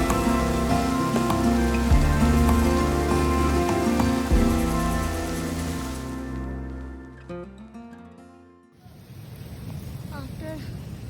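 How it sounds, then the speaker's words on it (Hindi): Rain falls on a steep mountain trek trail in the Hampta Pass area, a steady close hiss that fades out partway through before returning as a softer wash with a voice speaking over it. "अभी बारिश हो रही है।"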